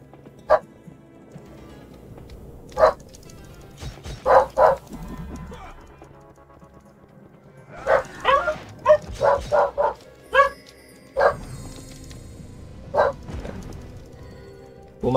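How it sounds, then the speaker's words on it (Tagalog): A dog barks in short, sharp bursts scattered across the clip, some in quick clusters, fairly close, with faint background noise between barks. "ang ingay ng aso"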